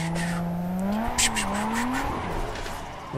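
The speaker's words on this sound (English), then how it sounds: "it revs up quite smoothly and has these turbo noises once you lift this" A drifting car in the Forza Horizon racing game revs with a smooth, rising engine tone, then hisses and flutters with turbo noises as the throttle lifts, loud and close with no talk.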